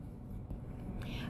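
Quick scratchy strokes of writing on a board during an English grammar class, faint and brief, a few short marks over a low room hum.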